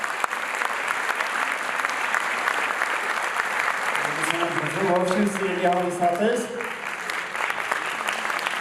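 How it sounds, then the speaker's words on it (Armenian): Audience applause at an anniversary concert of a cultural organization, a steady wash of clapping filling the hall under a voice that speaks over it partway through. "ձեր բարձր ծափարությունները։"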